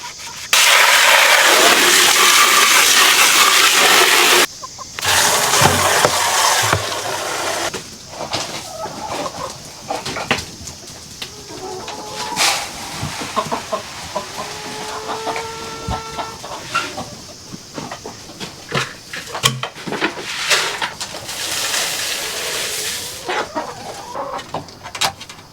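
Farm chickens clucking and squawking close by, with a loud flurry of agitated calls at the start, then scattered clucks and murmuring hen sounds in a quieter coop, with occasional rustling and knocks.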